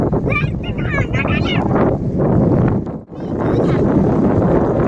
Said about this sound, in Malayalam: നാച്ചുറൽ കാറ്റ്.